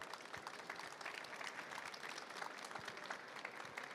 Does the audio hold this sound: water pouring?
no